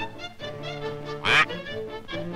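A cartoon duck quacks once, a short bright burst over continuous background music in an animated fable about a fox and a duck.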